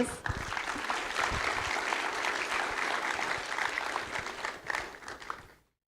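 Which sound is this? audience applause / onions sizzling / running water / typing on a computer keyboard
audience applause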